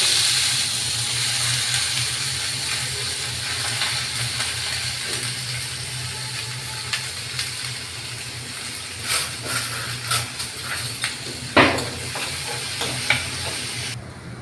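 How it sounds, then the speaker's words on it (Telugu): Sliced onions and green chillies fry in a pan with a steady, loud sizzle throughout, and sharper scraping stir clicks come in the second half. No one speaks. "రెండు ఉల్లిపాయలకి రెండు పచ్చిమిరపకాయలు సన్నగా కట్ చేసుకొని దీంట్లో వేసి వేపేస్తాను"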